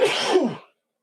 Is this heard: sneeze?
yes